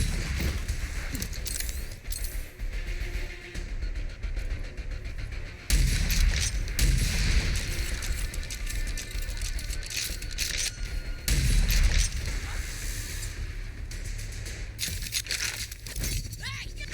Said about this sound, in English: This guy's getting me with these rockets